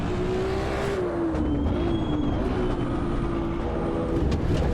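A race car in Assetto Corsa EVO pulls hard under acceleration, its engine tone holding steady then dipping and climbing through the gears, loud and continuous with no voices over it.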